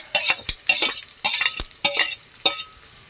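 Onions fry in a pan while a spatula stirs them: irregular sharp scrapes and clicks over a light crackling sizzle, close and without speech.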